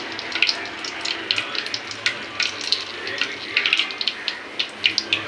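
Fennel seeds crackling and popping in hot oil for crab masala, a steady fizzing sizzle dotted with many small sharp pops, close and fairly loud, with no talking.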